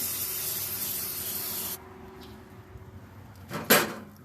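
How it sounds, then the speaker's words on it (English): Spray bottle spritzing grilled pork ribs on a barbecue: a long steady hiss of spray for nearly two seconds, then quiet, then a second short, louder burst of spray near the end, with no talking. "And spray some more"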